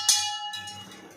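Small glasses, five of them, ring with a sharp clink as they are set down for cup egg curry, followed by softer, fainter glassy touches as they are handled.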